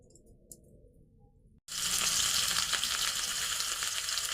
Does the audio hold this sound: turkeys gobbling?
no